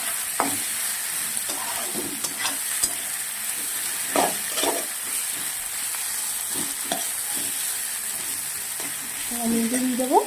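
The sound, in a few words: stirring and frying masala for fish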